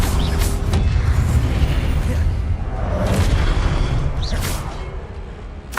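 Spell cast in a Harry Potter video game, heard as booming, whooshing bursts over a continuous loud rumble, with several sharp swells repeating through the stretch.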